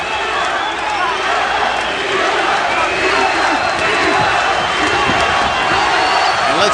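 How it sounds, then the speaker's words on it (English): Boxing arena crowd at a WBA lightweight title bout chanting and roaring steadily, a loud dense wall of voices sustained throughout with no break. "see how he responds to the swelling chants of the crowd"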